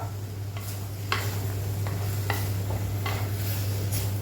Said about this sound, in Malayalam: നന്നായിട്ടൊന്ന് വഴറ്റിയെടുക്കാം. അല്ല വഴറ്റിയില്ല, നന്നായിട്ട് നമുക്കൊന്ന് ഡ്രൈ ആക്കിയെടുക്കാം.